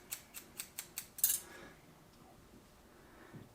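A barber's scissors snip hair over a comb in five quick, crisp cuts at an even pace, then a brighter metallic clip and near quiet with faint handling sounds.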